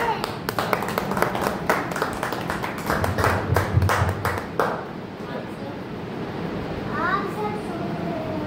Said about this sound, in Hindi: बड़ी तालियां तो बजाइए।